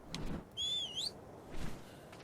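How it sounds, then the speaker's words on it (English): A player's whistle commanding a tamed creature in ARK: Survival Evolved, a single bright rising-and-falling whistle of about half a second, heard over a quiet game background with no talk. "Let's whistle for her to stop."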